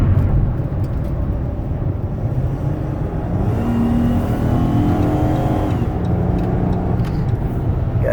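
Steady engine drone of a 2010 Dodge Caravan SE wheelchair van on a test drive, heard from inside the cabin with low road rumble and a rising tone as it accelerates, no talk.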